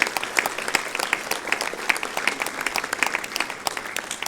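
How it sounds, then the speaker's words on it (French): An outdoor crowd at a June 18 commemoration in Dourdan applauds the local fire brigade, scattered, moderately distant clapping continuing steadily throughout. "On peut les applaudir aussi."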